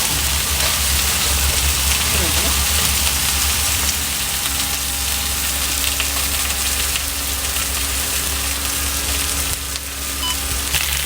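Potatoes searing on a Blackstone griddle beside chicken and corn, a loud, dense, continuous sizzle close up, with a brief voice under it.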